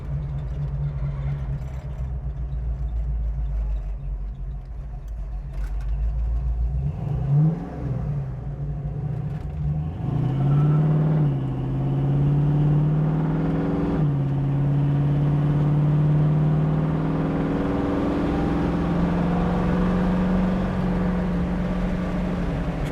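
A 1970 Ford Mustang drives steadily on the road. The engine's drone climbs and then drops back at a few gear shifts, and a continuous rumble runs underneath throughout, with no talking.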